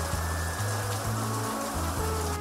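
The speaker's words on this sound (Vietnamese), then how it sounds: "một cơn mưa to bất chợt kéo đến" A heavy, sudden downpour gives a dense, steady hiss of rain that stays constant throughout, with a low droning hum underneath.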